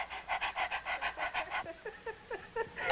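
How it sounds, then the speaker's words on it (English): A woman in labour pants like a dog with a midwife coaching her, a fast steady series of breathy huffs, about a dozen evenly spaced, close and clear, then looser irregular breaths toward the end. "But pretty soon I want you to stop pushing down and pant like a dog."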